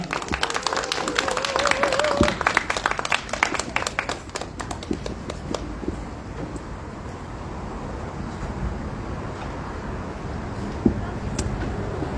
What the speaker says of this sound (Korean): 우리 큰 박수로 한번 무대로 모셔보겠습니다